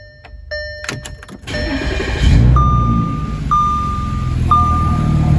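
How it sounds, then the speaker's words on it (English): A car engine rumbles steadily with a low, throaty exhaust note through fitted mufflers and a faint hiss from an exhaust leak midway along the system, while a few short electronic chimes ring out over it. "So this is with the mufflers on and still the exhaust leak in the middle."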